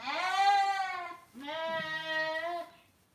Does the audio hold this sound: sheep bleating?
yes